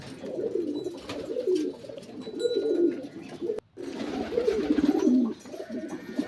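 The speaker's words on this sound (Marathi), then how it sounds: "आता हवेला एक एक कबूतर बाहेर काढलं" Pigeons coo repeatedly in soft, throaty bursts, several birds overlapping at close range with a low murmur throughout.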